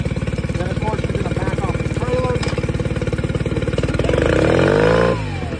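A 2023 Tohatsu 15 hp outboard motor idles steadily while warming up, a close, even mechanical putter that rises slightly in pitch near the end before settling back.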